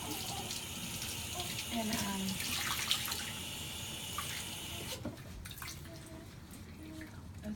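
Water runs from a sink tap while a newborn's face is washed with a clean washcloth, a steady close splashing flow that cuts off partway, with a voice speaking briefly.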